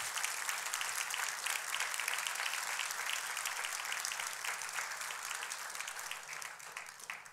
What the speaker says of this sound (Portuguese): Nós podemos aplaudir o nome do Senhor Jesus